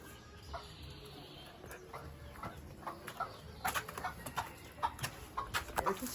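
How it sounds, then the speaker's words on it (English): Chickens in a backyard coop in Panama give scattered short clucks and squawks over a steady outdoor noise bed, fairly close and irregular. "There's the chickens."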